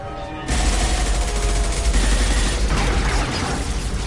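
Sustained, loud gunfire from a Mass Effect firefight, with dense overlapping shots and booms. It runs continuously after a brief quieter opening and has no talking over it.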